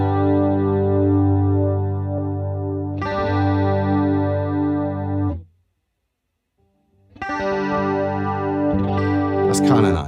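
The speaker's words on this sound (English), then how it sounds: "It's a more subtle chorus," An electric guitar played through the subtle C chorus effect of a Valeton GP200 rings out in shimmering sustained chords, fading to silence mid-way before another strummed chord swells up, clean and close.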